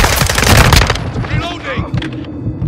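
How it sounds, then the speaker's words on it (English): A Semtex grenade blast in Call of Duty: Modern Warfare 2 multiplayer: a loud, close burst of explosion and gunfire noise up front, then a fading crackle and tail as a voice calls out over the battle. "throwing Semtex!"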